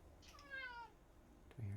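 Kitten meowing indoors, a brief falling meow followed by a short second call, quiet and close, alongside faint background noise.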